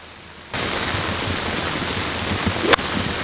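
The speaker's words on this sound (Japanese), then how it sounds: "この雨はきついよ" Steady rain falling on a golf course, starting abruptly and holding as a dense, even hiss at moderate level, with a brief sharp click near the end and no talk.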